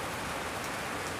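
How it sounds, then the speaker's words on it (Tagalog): Heavy rain pours down in Baguio City, a dense, steady hiss of downpour on surfaces, close and uniform across a brief moment with no voices. "Walang tigil na ulan dito sa Baguio."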